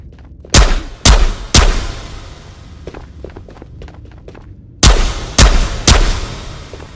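Six loud, close shotgun blasts in the VR game Ghosts of Tabor, fired in two spaced groups of three, with lighter handling clicks and thumps between them.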